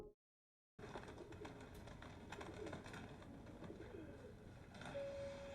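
Doves coo softly in Interview with the Vampire after a brief silence, low murmuring calls layered over a busy ambient background with scattered clicks, no one speaking.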